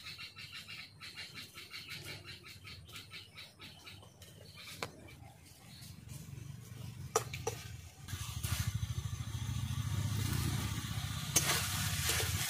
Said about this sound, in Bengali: চাল কুমড়ো দিয়ে মশলার সঙ্গে ভালো করে কষিয়ে নিয়েছি